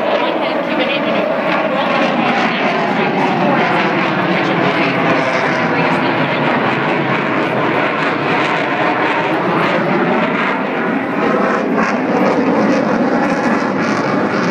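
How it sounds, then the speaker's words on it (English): Loud, continuous roar of an F/A-18 Super Hornet flying air show maneuvers such as rolls and loops at the Seafair Air Show, with the jet noise steady throughout and crowd voices mixed in. "Lieutenant Celentano will now perform a dirty roll, demonstrating the superior power and maneuverability of the Rhino."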